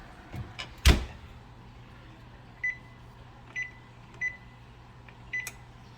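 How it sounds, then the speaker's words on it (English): An oven door bangs shut once, loud and close, as a tray of hamburger biscuit bombs goes into a home oven, followed by four short, quieter electronic beeps spaced over the next few seconds. "So it's time for these bad boys to go in the oven."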